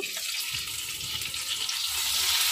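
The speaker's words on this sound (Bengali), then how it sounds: "এক এক করে বেগুনগুলোকে আমি উল্টে পাল্টে ভেজে নেব।" Eggplant slices sizzle in oil in an uncovered pan, a steady close frying hiss that grows slightly louder toward the end, with no talking.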